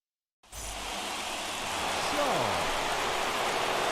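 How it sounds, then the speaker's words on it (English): Steady rain pours down in the baseball video game MLB The Show 21 during an afternoon game: a dense, even hiss that starts abruptly and holds at a constant level, with no voices. "There is rain in the area,"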